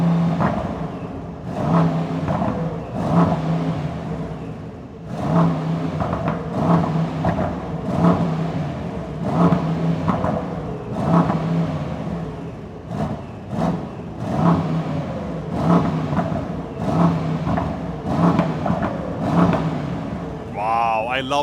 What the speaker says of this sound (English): I really don't mind having a hybrid as long as we are getting this beautiful V8 sound